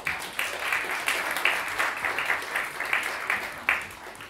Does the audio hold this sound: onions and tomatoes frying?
no